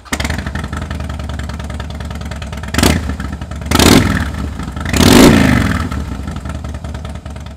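2009 Harley-Davidson Softail Deluxe FLSTN V-twin with slip-on mufflers idling with a loping rumble, then blipped through three rising revs, each swelling louder and falling back to idle, heard close with no talk.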